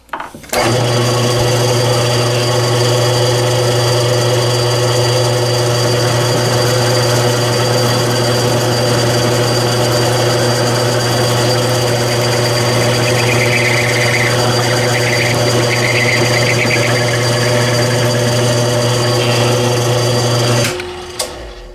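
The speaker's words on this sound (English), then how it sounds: "the carbide cutter, the router cutter, will drill out the rest of the hole to the half inch size" A carbide wood router cutter in a metal milling machine whines at a steady high pitch, grinding continuously and loudly through metal to enlarge a hole to half an inch for about twenty seconds, then stops abruptly.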